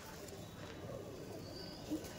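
Kasmadom pigeons kept for sale coo softly and intermittently behind a steady hum, with a person's voice faintly present.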